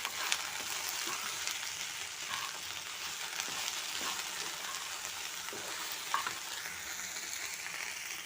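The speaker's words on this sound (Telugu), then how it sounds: "కొద్దిగా ఫ్రై అవనిద్దాం" Okra (lady's finger) fries in a pan with salt and turmeric, a steady crackling sizzle at moderate level with occasional soft stirring clinks and scrapes, no voices.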